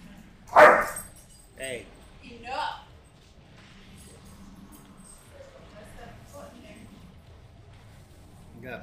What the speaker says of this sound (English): Oh, we got excited puppies.